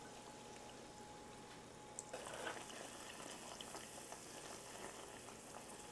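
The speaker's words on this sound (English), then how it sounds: "And then in goes the heavy cream." Heavy cream is poured into bubbling homemade caramel for banana pudding, and a steady sizzle and hiss swells as the liquid hits the hot pan.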